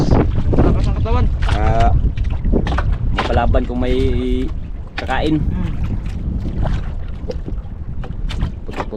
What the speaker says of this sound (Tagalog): Grabe lakas pa rin talaga ng hangin ngayong araw.